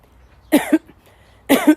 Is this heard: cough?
yes